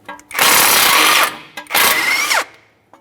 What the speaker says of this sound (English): We'll use our 19mm for that mounting nut.